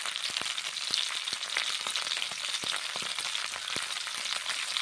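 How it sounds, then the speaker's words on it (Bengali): Shredded cabbage frying in mustard oil in a pan, a quiet, steady sizzle with scattered sharp pops and crackles throughout, no voices. "বাঁধাকপিগুলো তেল দিয়ে ভেজে নিচ্ছি।"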